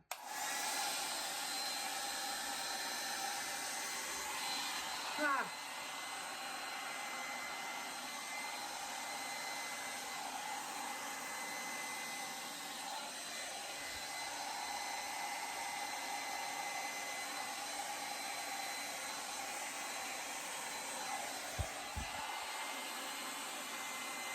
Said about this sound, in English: I'm gonna start blowing the wispy down. I'm gonna blow down